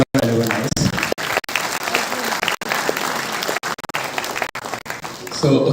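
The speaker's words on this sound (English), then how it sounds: "So let's have a huge round of applause for our alumni." Audience applause for alumni at the DEXTRIX 4.0 result declaration, sustained clapping from a sizeable crowd broken by a few brief dropouts, with voices and cheering mixed through it.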